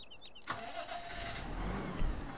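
A John Deere tractor engine in a farming video game cranks and catches, settling into a steady low idle that swells slightly as it revs, heard close and clear after a brief electronic chirp.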